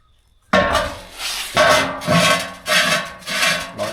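A threaded right-angle fitting is screwed onto the bottom of an old gas cylinder for a shed waste-oil burner: about four close, rasping metal-on-metal grinding strokes with short pauses between, no voices.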